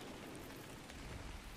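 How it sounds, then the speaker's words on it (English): Steady rain pours down in the ARK Survival Ascended video game, a dense, even hiss of drops on surfaces filling the whole moment with no talking. "It's raining right now."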